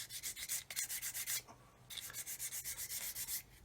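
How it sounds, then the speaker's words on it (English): Sandpaper rubs back and forth on the side of a plastic part for a 1/32 scale OV-10 Bronco model aircraft, making a fast, regular series of close, soft scratchy strokes with a short pause partway through. "So I just want to sand it"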